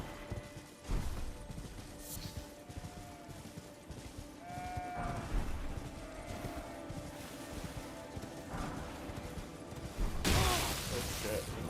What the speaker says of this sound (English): these goats are demon goats